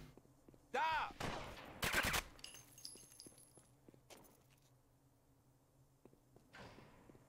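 Gunfire in the shooter Mortyr IV, a couple of sharp, loud close bursts with metallic ringing, followed by quieter scattered clinks and a faint distant shot over a low hum.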